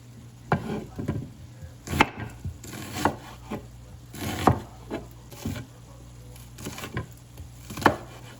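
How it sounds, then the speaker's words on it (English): A knife chops an onion finely on a cutting board, giving irregular sharp thuds about once or twice a second, close and clear with no talking. "Chop up my onion real fine."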